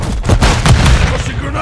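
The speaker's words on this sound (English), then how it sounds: "Frag out, blast out!" Frag grenade blast in Modern Warfare 3 multiplayer on the Dust to Dust map: a loud, muffled boom with rumbling low end, amid sharp gunfire pops and battle noise over a short burst.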